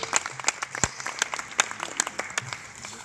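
An audience applauds at a speech event in Dakar. The clapping is sparse and moderate, with distinct individual claps spread irregularly across a short stretch.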